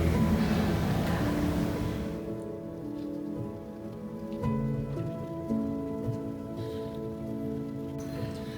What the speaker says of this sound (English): as the rain falls softly outside